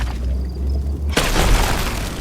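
Rock explosion in the video game RuneScape: Dragonwilds, a single loud, deep boom bursting out midway and leaving a broad rumbling roar over low background noise.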